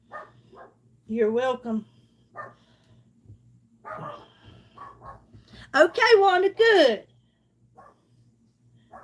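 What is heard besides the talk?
dog barking and whimpering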